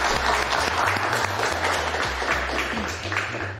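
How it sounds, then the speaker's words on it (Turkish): A crowd applauds for a contestant named Cem on a Turkish elimination-style game show, with dense clapping holding steady and close, a low hum running underneath, and the sound staying loud for the whole stretch. "Cem'e kocaman bir alkış alabilir miyiz?"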